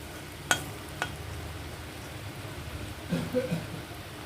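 Potato pakoras frying in hot oil in a home kitchen, a steady soft sizzle with a couple of sharp clinks from a utensil near the start and some stirring and turning noises later, close and fairly quiet.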